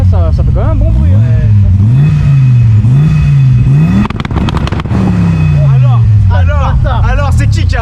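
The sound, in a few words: Audi engine revving during a launch on a dyno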